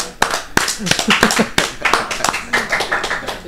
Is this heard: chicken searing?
no